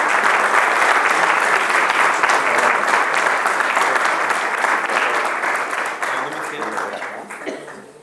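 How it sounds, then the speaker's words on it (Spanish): Loud, sustained applause fills the hall at an honorary doctorate ceremony in Santiago del Estero as a Catholic university choir is welcomed, thinning and fading toward the end. "Recibimos con este aplauso al coro estable"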